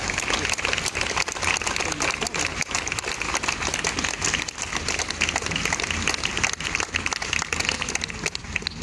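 Audience applause at an outdoor historical and musical concert in Nice, a continuous crowd clapping with sharp individual claps scattered through it, steady and fairly loud.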